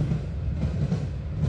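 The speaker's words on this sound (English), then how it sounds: "Why am I on a train?" Train rumbling along rails in The Last Door game, a low, steady churning roar with faint rhythmic pulsing of the wheels, continuous and close throughout the brief moment.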